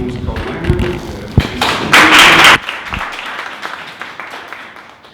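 A short burst of audience clapping rises at a 2019 summer series talk on influencer marketing, preceded by scattered thumps and taps, then fades into quieter room sound.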